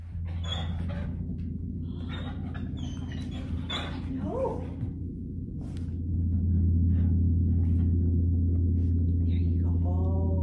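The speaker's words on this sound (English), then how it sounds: "So these are the puppies, in case you wanted to know what they look like." Puppies give a few soft, high whimpers and yips close by over a loud, steady low hum that swells partway through.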